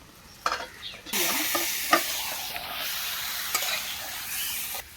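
Marinated chicken drops into a village-style pan of frying spices and potatoes, bursting into loud, continuous sizzling with a few stirring scrapes and clatters, close and without talk.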